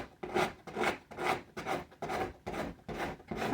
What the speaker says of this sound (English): I'm going to scrape the opposite direction to see if I can't get any more to come off.